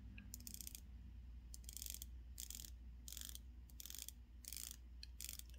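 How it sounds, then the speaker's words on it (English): Bezel of a Seiko watch turned by hand, giving a series of crisp, quiet ratcheting clicks in short bursts with brief pauses between, close up and alone. "let's see this bezel action here"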